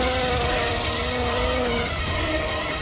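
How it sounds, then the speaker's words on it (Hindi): Flies buzz loudly and continuously inside a car, a dense close-up drone with shifting whining tones and no break in the sound. "भाई इतनी मक्खियाँ गाड़ी में कहाँ से आ रही है?"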